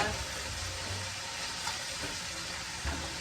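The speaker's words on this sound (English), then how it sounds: "I can hear it sizzling." Soft, steady sizzling of a vegetable curry stir fry in a pan, fairly quiet, with faint clinks of stirring.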